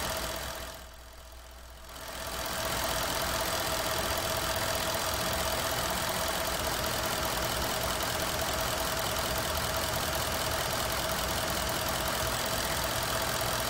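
Diesel truck engine idling during diagnostics with cylinders being switched off, a steady, continuous low rumble and drone that runs close and constant after a brief quieter dip near the start.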